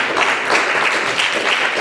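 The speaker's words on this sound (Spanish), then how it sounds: "Dale fuerte el aplauso al Señor Jesucristo" A church congregation claps loudly and continuously, a dense wash of hand claps that stays at an even level throughout with no talk on top.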